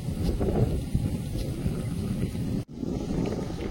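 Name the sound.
strong wind blowing at a village riverside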